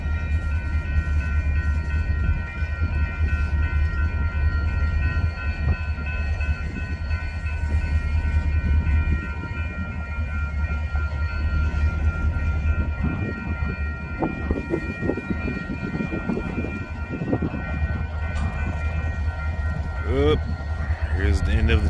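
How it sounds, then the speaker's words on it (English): A train rolls slowly through the Rock Creek Junction railroad diamond with a steady low rumble, wheel clatter and a brief horn-like tone near the end, while someone talks over it. "this train is either getting on the KCT or pulling into Neff"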